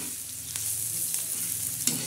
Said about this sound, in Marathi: असं चांगलं परतून घ्यायचं.